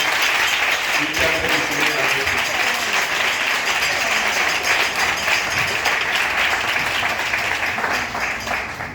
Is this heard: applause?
yes